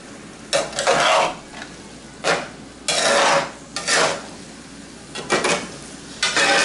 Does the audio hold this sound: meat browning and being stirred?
yes